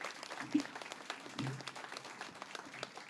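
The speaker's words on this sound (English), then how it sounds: "A round of applause for LECOM." Audience applause at a press conference for the Bradenton Area River Regatta, a soft, steady patter of many hands clapping at a distance, fairly faint, with a couple of slightly louder claps early on.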